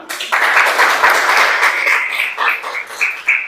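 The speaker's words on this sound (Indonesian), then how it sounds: "Ya, silakan tepuk tangan." Classroom applause from a group of students, a dense steady clatter of many hands that holds for a few seconds before thinning into looser bursts near the end, with faint voices mixed in.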